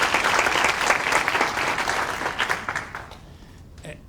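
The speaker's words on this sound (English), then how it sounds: "Let's give a round of applause to all of our family" Applause from a graduation audience at Indian Ridge School in 2021 fills the room, dense and steady, then thins and dies away in the last second.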